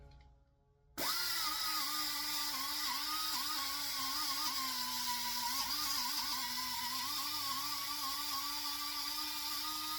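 A small power tool with a cleaning disc scrubbing the engine mount surface of a 5.4 engine, kicking on abruptly and then whirring in a loud steady high whine whose pitch wavers slightly under load, heard alone.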